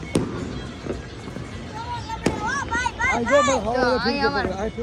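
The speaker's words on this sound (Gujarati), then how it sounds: "આ બધી અત્યારે ફટાકડા ફૂટે જો" Two sharp firework bangs pop out at night during Uttarayan kite festival celebrations, one early and one midway, followed by people talking close by.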